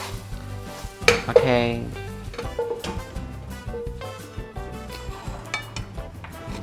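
An oyster omelette fries in a pan with a steady sizzle, while a utensil clanks against the pan with a loud scrape early on. Brief speech is heard nearby.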